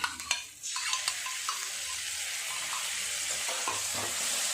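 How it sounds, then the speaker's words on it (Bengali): Spice paste with chicken and whisked yogurt frying in a pan, a bright continuous sizzle with a few sharp clinks of the stirring spoon at the start, close and steady. "আবারও ভালো করে মশলাটা কষাবো।"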